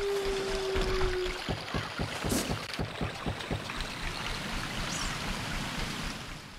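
Flowing river water in the Zelda game Ocarina of Time, near Zora's Domain, a steady broadband rush running through the whole stretch alongside a rhythmic pulsing pattern and a brief tonal game cue at the start.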